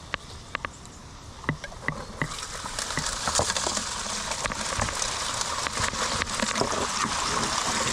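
Water pours and rinses gold ore through a high banker in dense bush, a steady rushing splash that builds and grows louder after a few sharp knocks at the start.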